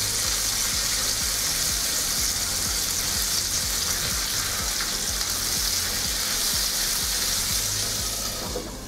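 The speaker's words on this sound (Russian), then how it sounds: "Переворачиваем и продолжаем жарить." Steady, loud sizzling of chopped meat cutlets frying in a hot pan, continuous crackle throughout with no voices.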